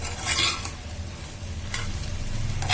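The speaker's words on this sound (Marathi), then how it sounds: "पनीर घालून घ्यायचं आणि चांगलं हलवायचं मिक्स करून घ्यायचं आहे" Paneer cubes are stirred in a pan for paneer pulao, a sizzling fry with brief scraping strokes, heard close and alone at moderate loudness.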